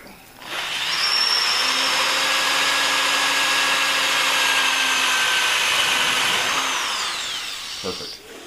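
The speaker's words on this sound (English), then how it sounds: "Now that we got all the holes drilled" A power drill bores holes for a windshield installation on a Carlson CVX-18, running in one loud, steady high-pitched whine for about seven seconds before spinning down.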